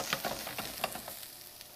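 Food sautéing in a hot pan during a cooking demonstration gives a soft, steady sizzle sprinkled with small crackling pops, quiet and close, with no one speaking.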